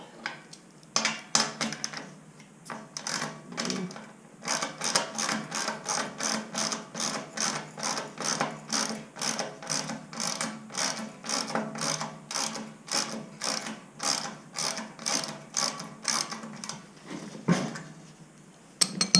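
A ratchet wrench loosens a 1/2 inch spring bolt on a John Deere aerator and dethatcher, giving a long run of fast, even clicks in steady bursts, close and fairly loud, with brief pauses between strokes and no talking.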